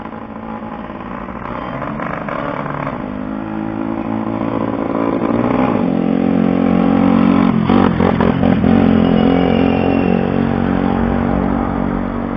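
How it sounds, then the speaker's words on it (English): Motorcycle engine revving at a distance, a steady mid-range drone that swells louder through the middle and stays up, with brief throttle surges layered over the buzz. "Again, revving the engine just for my benefit."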